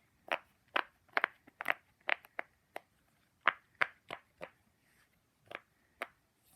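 Sharp little pops from a pop-it fidget toy sound one after another in an irregular rhythm, close and fairly quiet, with short gaps between them.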